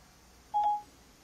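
A single short dialing tone rings out from a Kenwood DDX9903S car head unit during CarPlay phone calling, a brief clean beep over a quiet background.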